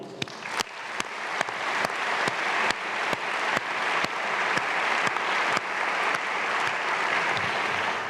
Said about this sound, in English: So may have another round of applause for all of you.